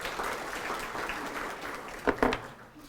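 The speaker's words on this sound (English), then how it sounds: "I think we should give a round of applause for those who volunteer their time to make things possible for us" Applause for volunteer board members at a chamber of commerce banquet: a room full of people clap steadily, swelling briefly near the end before fading.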